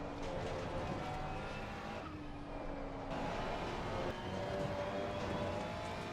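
A race car engine in Assetto Corsa Competizione, during an online quick race at the Hungaroring, drones steadily throughout. Its pitch rises and falls with gear changes, close and alone, with no talk.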